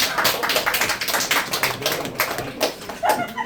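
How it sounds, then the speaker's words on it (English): An audience at an improv comedy show gives a round of applause, a few seconds of fairly loud, close hand clapping with uneven bursts and brief dips, no voices over it. "give them a round of applause"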